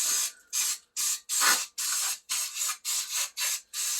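Cleaner is sprayed onto a part of a 1978 Quadrajet 4350 carburetor in a rapid series of about nine short, loud, close hissing bursts separated by brief gaps.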